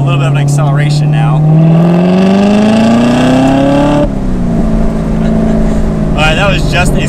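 A 2019 Chevrolet Corvette ZR1 makes a short second-gear pull: a loud, close engine note climbs steadily for about four seconds, then drops back to a lower drone, with a hint of talk near the end.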